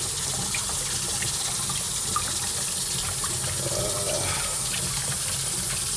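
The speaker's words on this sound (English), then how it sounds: "I'm giving it a really, really good aggressive rinse here" Tap water runs hard and continuously over a wet plate collodion photographic plate during an aggressive rinse, a close, loud, steady splashing rush with no talking.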